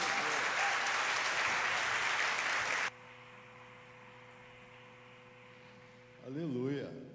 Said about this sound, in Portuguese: Você aplaude o Senhor